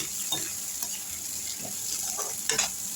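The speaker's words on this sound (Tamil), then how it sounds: "நல்லா வதக்கி விட்டுருங்க வெங்காயம் வந்து நல்லா வதங்கிடணும்" Finely chopped large onions sautéing in a pan, a soft steady sizzle with occasional spoon stirring scrapes, close and fairly quiet, no talking.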